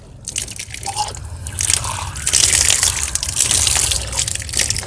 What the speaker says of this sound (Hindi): इस तरीके से 3 मरतबा नाक में पानी डालेंगे